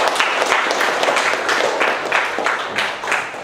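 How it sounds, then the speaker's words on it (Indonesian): Students clapping together in a classroom, a brisk, even round of applause that stays loud and steady throughout with no talking. "Tepuk tangan untuk semuanya."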